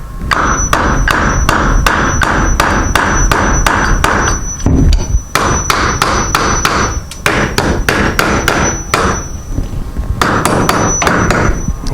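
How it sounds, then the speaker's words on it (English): A hammer strikes a nail back into a wooden part of a garage door opener during a repair, with dozens of sharp, evenly paced blows in quick succession, close and loud, pausing briefly and then resuming. "we're just going to hammer this nail back in there"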